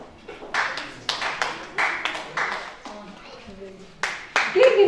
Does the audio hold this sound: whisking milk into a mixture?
no